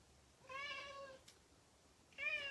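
A pet cat meows twice indoors, quiet and fairly close, with a drawn-out call followed after a pause by a shorter second meow, and no one speaking.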